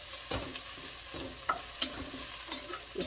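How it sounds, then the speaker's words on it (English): Onions, thyme and Scotch bonnet pepper sautéing in a pot for Jamaican peppered shrimp, a gentle continuous sizzle with scattered clicks and scrapes of stirring, close and quiet, no voices. "So we're just sauteing these onions and the thyme and the Scotch bonnet pepper"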